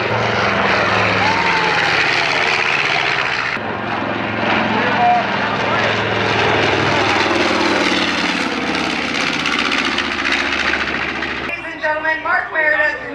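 A B-25 Mitchell bomber flies at the New York Air Show 2025, its twin propeller engines holding a loud, steady droning roar that fades slightly near the end, with an announcer talking over it.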